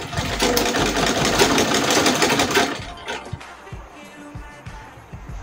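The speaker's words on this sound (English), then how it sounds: "now I'm going to sew a stretch seam just to secure the piece" A sewing machine stitches a stretch seam, whirring steadily and rapidly for about three seconds before stopping, leaving quieter clicks and handling noises.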